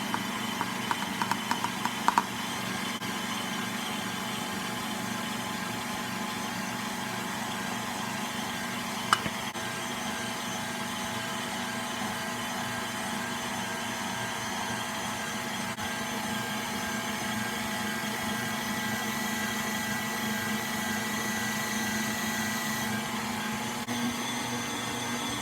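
A stand mixer kneads honey butter yeast roll dough with a steady, continuous motor whir and hum at even loudness, with one brief clunk and no talking.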